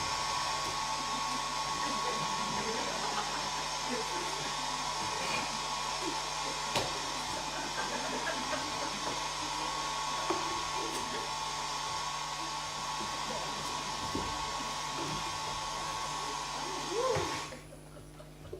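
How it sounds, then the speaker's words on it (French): A hair dryer blows with a steady, even whir for most of the clip, then cuts off near the end; a few faint background noises underneath. "Un sèche-cheveux"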